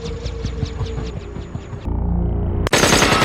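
Rapid bursts of machine-gun fire from a helicopter in a film rattle loudly, followed by a heavy roar and another sharp blast of noise.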